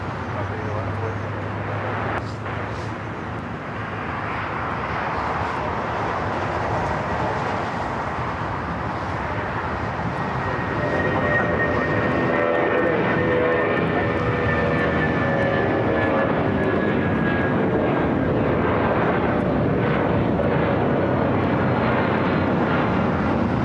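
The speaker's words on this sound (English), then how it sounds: "Up first, United Airlines Flight 1591 to 757-200 heading to Houston, Texas. Next takeoff here on the south side." United Airlines Boeing 757-200 jet taking off from the south side at LAX, a steady loud engine roar building and holding throughout, with someone narrating over it.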